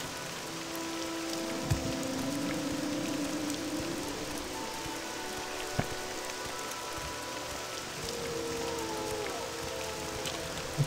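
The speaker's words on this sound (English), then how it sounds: "now it's raining, so it's very loud" Steady rain patters and hisses continuously in the video game The Elder Scrolls III: Morrowind, with a few sharper drop ticks and a faint tonal sweep in the background.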